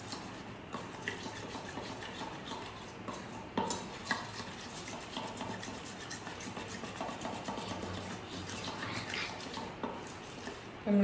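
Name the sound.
stirring melted chocolate with sunflower oil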